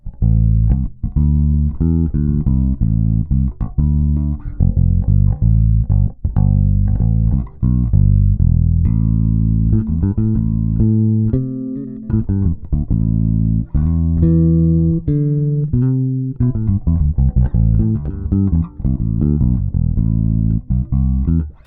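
A warm, deep electric bass plays a continuous melodic line of round low notes, loud and close, with no voices.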